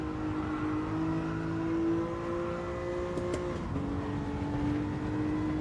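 Race car engines hold a steady, droning whine through a corner, with the pitch dipping briefly before settling again. Loud and continuous with no talk.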